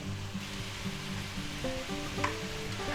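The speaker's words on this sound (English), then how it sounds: "let's go ahead and add the rest of our wine in there" Steady sizzle and crackle of a beef, mushroom and mixed vegetable chop suey-style stir-fry as wine goes into the hot pan, heard close and alone without talk.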